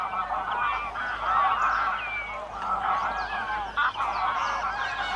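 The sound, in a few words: flock of geese honking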